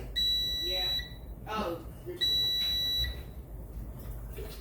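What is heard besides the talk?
air fryer alarm beeping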